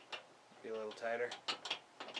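A ratchet snugs down a bolt on a gun safe handle, giving quick runs of close, dry clicking mixed with metallic handling noises, under a faint voice.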